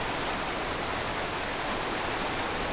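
Water pours down a waterfall at Falling Water Falls, a steady, even rushing hiss heard from fairly close with no voices.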